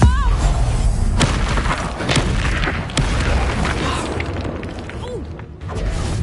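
Confringo spell blast in Hogwarts Legacy, a loud booming explosion with crashing, shattering debris amid rumbling combat noise, close and sustained, with a voice calling out over it.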